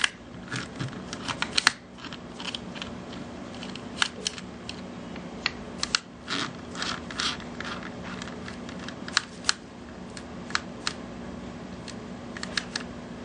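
Small screws being undone while a PSP 2000 handheld console is taken apart: a close, quiet run of irregular light clicks and metallic ticks over a faint background hum, with no talking.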